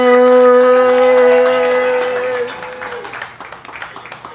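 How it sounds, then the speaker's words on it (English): Poetry open mic crowd starting to clap for a poet, scattered sharp claps emerging at the end as a sustained musical tone and talk fade out, fairly near and growing busier. "We clapping, we building energy."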